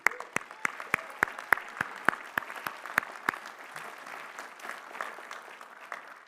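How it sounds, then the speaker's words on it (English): Applause at a graduate commencement and doctoral hooding ceremony begins with a few sharp, distinct claps that quickly swell into steady, dense clapping from a large audience, then gradually fade, heard from a moderate distance without speech. "I'll give you a round of applause."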